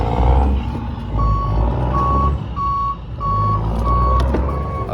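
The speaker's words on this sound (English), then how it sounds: "I don't know how to kill the beep." A cable news truck sounds its reversing alarm, a loud, evenly spaced series of single beeps repeating over a steady engine idle, with no talk.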